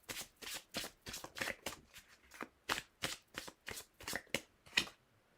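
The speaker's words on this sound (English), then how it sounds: "So we'll pull a few clarifying cards for you" Tarot cards being shuffled by hand, a quick series of about a dozen crisp riffling bursts in an uneven rhythm, close and clear against a quiet background.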